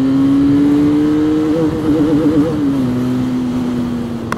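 A Benelli 502C motorcycle accelerates nearby with a loud steady engine drone, its pitch climbing and wavering mid-way as it shifts, then settling back to a smoother tone.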